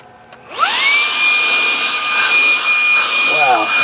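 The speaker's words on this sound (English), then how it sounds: "let's do a quick test vacuum in here" A Shark WandVac cordless handheld vacuum cleaner spins up from quiet to a loud, steady whine with a rising motor tone, then runs continuously close by, with a brief change in pitch near the end as it sucks up metal shavings on a workbench.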